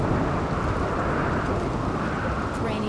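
Steady rain in the video game Rimworld, a dense, even wash of noise that holds at a constant level throughout with no breaks.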